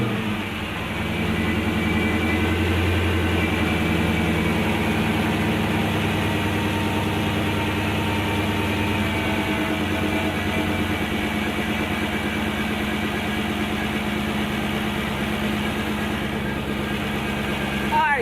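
Supercharged Dodge Hellcat V8 fitted with a B woody intake fires up and settles into a steady, loud, rumbling idle that holds for the full duration, close to the car.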